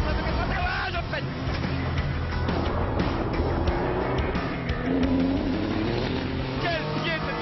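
A Renault RS01 race car roars loudly and steadily at around 285 km/h as it begins braking, its engine and road noise filling the cabin with a voice heard underneath.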